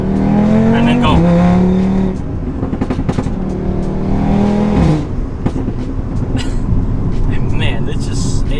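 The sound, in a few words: modified 2018 Audi RS3 accelerating hard through gears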